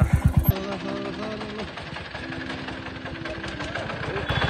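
Motorbike of an approaching rider on a rural Nepali path, a mid-pitched engine chugging steadily and growing louder as it nears, with a few loud thumps at the start and voices talking over it.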